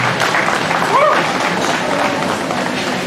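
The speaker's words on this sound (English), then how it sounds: "You better give Jace a big round of applause" A crowd at a 2020 livestock sale applauds the exhibitor of the overall grand champion market steer, a continuous wash of clapping and crowd noise with an announcer's voice speaking over it.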